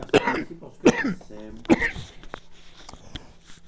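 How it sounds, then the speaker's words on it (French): Loud, harsh coughs in three bursts, a voice speaking between them as the fits die away. "c'est une toux à décrocher les tableaux ça"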